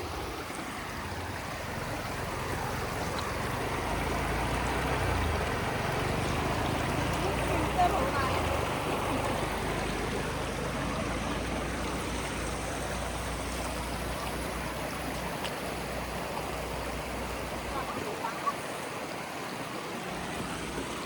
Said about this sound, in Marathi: इथे धबधब्याचं जे पाणी आहे ते खाली येत आहे आणि एक झरा तयार झालेला आहे